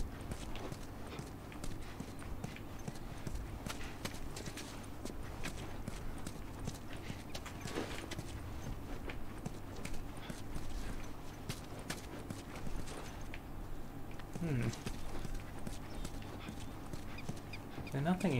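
Heavy footsteps thud steadily through The Last of Us Remastered, a dense game soundscape with a constant low rumble and scattered clatter beneath, the steps fairly near and continuous across the span.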